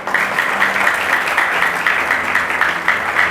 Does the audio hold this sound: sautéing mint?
no